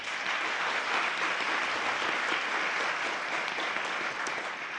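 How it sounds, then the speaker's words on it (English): Steady applause from a large audience thanking a conference panel, even and sustained throughout with no pauses. "Please help me thank our panel with a round of applause."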